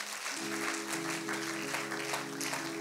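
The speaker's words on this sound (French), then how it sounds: "Acclame, acclame, acclame, acclame, acclame." A church congregation applauds steadily and thickly throughout, with a held tone running underneath the clapping.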